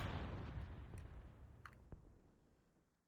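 A mortar round fires at charge 3 in a military simulation game: a dull boom and rolling rumble that fades out over a few seconds, with a sharp crack partway through and no talk.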